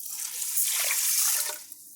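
Water pours into an Instant Pot holding rice, a steady close splashing hiss that swells in the middle and tapers off near the end.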